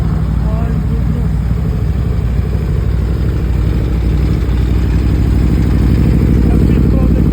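A 2025 Aprilia RSV4 Factory motorcycle idles nearby with a steady, throbbing low engine burble that stays even throughout, while someone talks over it.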